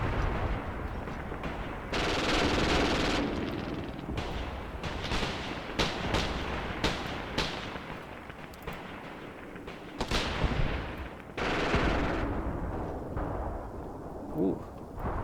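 MG42 machine guns firing on the Eastern Front in a 1943 war video game, with long rapid bursts and heavy booming shots, some close and loud and others farther off, in a dense combat din.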